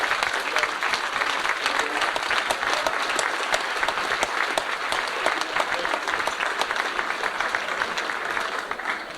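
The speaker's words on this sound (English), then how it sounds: "I would like another round of applause, folks, if we could, for the wives and significant others for these coaches" Audience applause for coaches' wives and partners at a 1993 high school football gathering: a full, steady round of many hands clapping, fairly close and loud, lasting the whole stretch.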